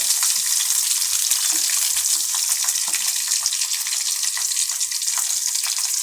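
Ginger and garlic fry in hot oil in a pan, giving a bright, continuous hissing sizzle that stays close and steady throughout, with no voices.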